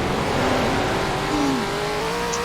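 A Bugatti sports car in the Roblox video game drives along with a steady synthetic engine drone and a brief rising tone, loud and continuous throughout.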